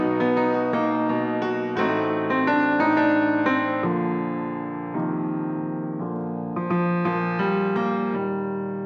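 A keyboard plays a slow sequence of sustained chords, each change clearly struck, ringing alone without any voices.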